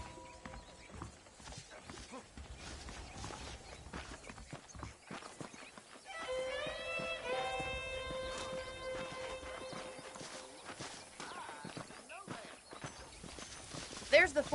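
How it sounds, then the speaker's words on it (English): Saddled horses clip-clopping at a walk in Red Dead Redemption, steady hoof falls under ongoing game ambience, with an occasional whinny and a voice speaking over part of it. "The horses are saddled up over here."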